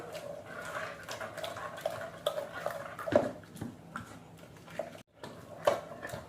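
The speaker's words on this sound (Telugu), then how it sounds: "ఇప్పుడు ఈ పప్పు మెత్తగా మెదుపుకుందాం." Cooked dal with drumsticks is mashed smooth in a pot, with soft, irregular taps and scraping knocks of a utensil against the pot at low volume, close by.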